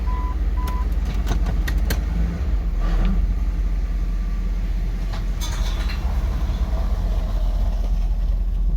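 A car with a slipping transmission rumbles out of a garage, its engine a low, steady drone close by, with a few faint clicks and knocks over the continuous hum.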